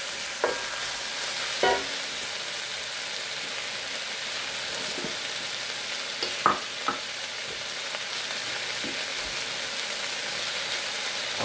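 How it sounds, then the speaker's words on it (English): Chicken and vegetables for kung pao stir-fried in a hot pan, a constant bright sizzle with occasional scrapes and clinks of the utensil against the pan, close and steady. "This is truly stir frying."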